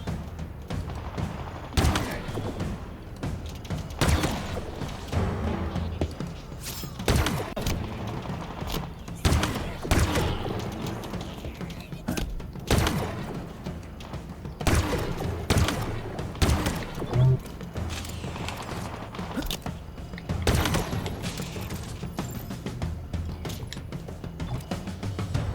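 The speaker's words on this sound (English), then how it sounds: "I don't see whichever bastard's shooting at me." Enemy gunfire in the video game Halo Infinite cracks out in repeated bursts and single shots over about twenty-five seconds, loud and close, with a voice speaking between shots.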